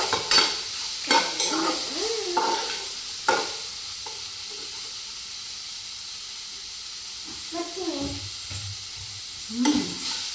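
Broccoli fries in a pan with a soft steady sizzle and hiss, punctuated by scraping stirs of the spatula near the start and again toward the end.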